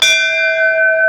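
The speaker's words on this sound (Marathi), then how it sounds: "जुन्या घंटा असतील ना एकदम." Old temple bell at a village Shiva temple struck once, a loud, close metallic clang that leaves a long, clear ringing tone, with no voices.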